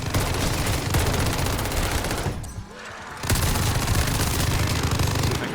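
Sustained rapid gunfire in the video game Vanguard Zombies, a dense automatic burst that briefly pauses and then resumes, loud and continuous.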